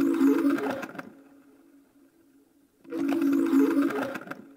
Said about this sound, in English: Next thing I added was a note from the Kinetic Treats Bank from Contact.